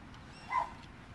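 A dog gives a single short, high whimpering yip at close range, faint and brief amid quiet room tone.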